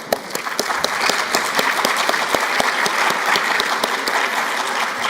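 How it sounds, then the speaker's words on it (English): Dense, sustained applause from a large audience at the Illinois Workforce Summit 2026 plenary session, steady clapping filling the whole stretch without letup. "give them a big round of applause"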